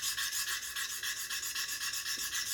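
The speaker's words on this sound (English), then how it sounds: "That conditioning stone is super hard on a super hard playing surface." A conditioning stone rubbed over the hard playing surface of a turkey pot call makes a close, rapid, rhythmic scratchy rasp, strokes repeating evenly with no talk.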